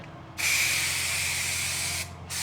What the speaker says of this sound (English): then spray as I go and not just spray it all at one shot